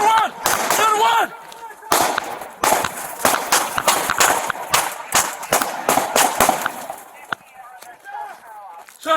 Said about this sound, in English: Shots fired by the police.